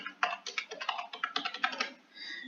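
Rapid, irregular clatter of keys on a computer keyboard as a teacher's national code is entered into an online school records form, a close run of clicks with a short lull near the end.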